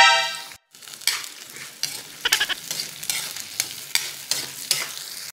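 Garlic and onion sautéing in a pan for adobo, with a bright sizzle and repeated rhythmic spatula scrapes and taps, fairly close and loud.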